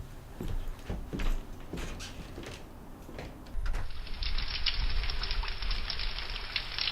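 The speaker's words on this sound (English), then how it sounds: "It's raining." Steady rain patters and hisses, with a few heavier drops early on; the downpour grows denser and brighter after a few seconds and continues evenly.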